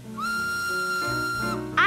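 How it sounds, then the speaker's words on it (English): A cartoon steam engine at the front of a passenger train gives one sustained, loud whistle lasting over a second, with a brief sharper sound bursting in just at the end. "The steam engine whistled."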